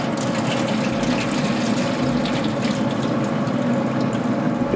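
Hot tap water pours into the water pan of a Camp Chef pellet smoker, a steady, loud splashing rush that runs continuously without pause.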